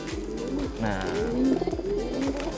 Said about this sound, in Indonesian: Karena ini merpati sebenarnya ini merpati kolong ya